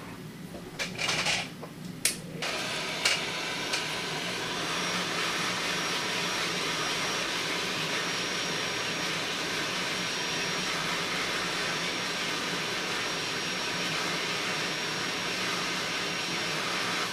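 A heat gun warms the screen of an Apple iPad 3 (A1416) during a repair. After a few clicks and handling noises, a steady blowing whir starts and holds evenly, close and moderately loud.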